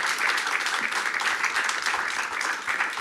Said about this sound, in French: Je vous prie de bien vouloir faire, pendant qu'il quitte la scène, un tonnerre d'applaudissements pour Brieux.